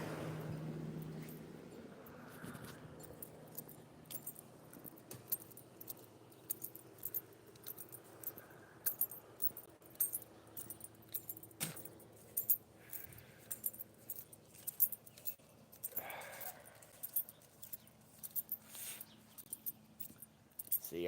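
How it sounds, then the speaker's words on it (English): Keys jangle and clink faintly while someone gathers them before leaving for work at home, with scattered small metallic rattles and handling noises spread over a quiet background. "I gotta get my keys."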